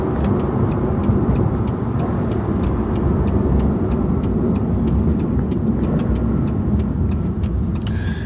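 A BMW M2 CS with a Carbahn Stage 2 tune and exhaust valves open gives a loud, steady, deep rumbling drone from inside the cabin while driving, with a faint regular ticking running underneath.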